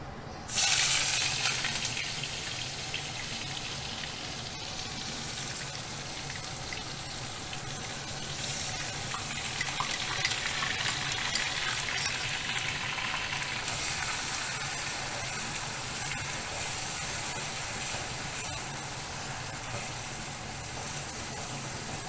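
Onion paste dropped into hot oil with whole garam masala and cardamom for masala paneer, a sudden loud burst of sizzling that settles into a steady hissing fry, close and continuous without talk.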